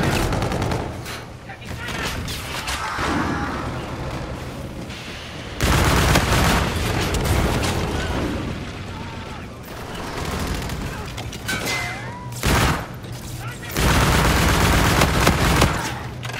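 UDM Mod-3 gunfire in Infinite Warfare, heard as repeated loud, close bursts of rapid shots separated by short pauses, with a voice talking over the shooting.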